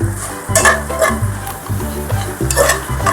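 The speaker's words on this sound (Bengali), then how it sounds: "আমি এখানে হাফ হাফই কাজুটা ভেজে নিলাম" Halved cashews fry in a pan, heard as a close sizzle under repeated rhythmic scraping and stirring strokes, roughly one every half second.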